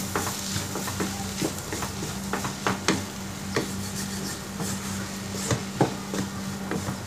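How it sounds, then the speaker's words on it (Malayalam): Green chillies, ginger and garlic sautéing in a pan with a steady sizzle, punctuated by scattered sharp scrapes and taps of a stirring spoon against the pan, close and moderately loud with no talking. "2 പച്ചമുളകും ഒരു 1/2 ടീസ്പൂൺ ഇഞ്ചിയും 1/2 ടീസ്പൂൺ വെളുത്തുള്ളിയും ചേർത്ത് ഒരു പച്ചമണം മാറുന്നത് വരെ വഴറ്റിയെടുക്കാം."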